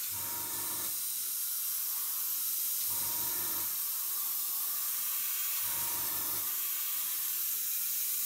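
An airbrush sprays white pre-shade paint onto a model jet in a continuous, close hiss, with three brief low pulses at regular intervals and no talking.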